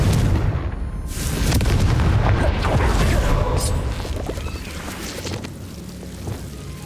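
A fire explosion spell in the Hogwarts Legacy video game erupts as a loud, close boom that rolls into a long roaring rumble before gradually fading, with no other sounds standing out.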